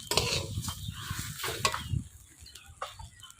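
Rice being stir-fried in a pan with salt and turmeric for Bengali double dal khichuri, giving a close, steady sizzle with repeated scraping stirs that come in bursts, with no talk.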